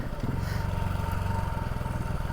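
Motorbike engine droning steadily on a forest trail near Papineau-Labelle, with a rapid even low pulse and light clatter, close and continuous throughout.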